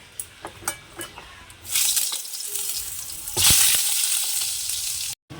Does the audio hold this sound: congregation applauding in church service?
no